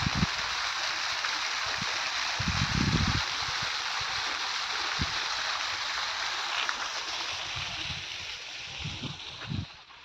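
Steady rushing borewell water pours continuously in a coconut grove, loud and close, with occasional low thumps and splashes beneath the flow.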